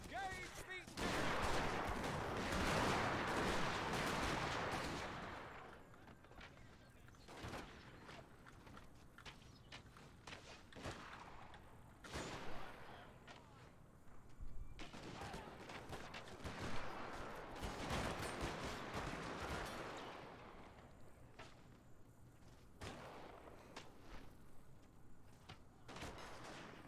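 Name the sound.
guns firing in the video game Total War Shogun II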